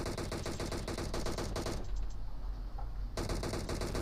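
Rapid automatic gunfire in the mobile game PUBG Mobile, a dense continuous rattle of shots that stops briefly and then resumes. It is loud and steady, with no talking during the shooting.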